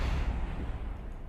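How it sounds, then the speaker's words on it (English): A cargo bay on a saucer-shaped craft explodes during a video game test flight, a short, close, bassy blast that decays quickly. "Things explode left and right away."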